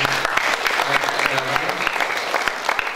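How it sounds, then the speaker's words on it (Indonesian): Audience clapping at a national seminar held with a Banten community organisation, a steady, dense round of applause lasting the whole stretch, fairly close and even in loudness with a faint voice in the background. "kita berikan aplaus buat"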